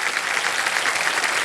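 Studio audience applause on the set of the Hindi quiz show KBC, a steady dense wash of clapping filling the whole moment at even loudness with no voices over it.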